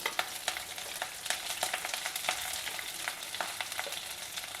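Chana dal, urad dal, slit green chilies, chopped ginger, sliced onions and curry leaves stir-fry together in a pan, quiet close sizzling punctuated by repeated sharp spatula clicks and scrapes.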